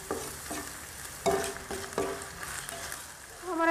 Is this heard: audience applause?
no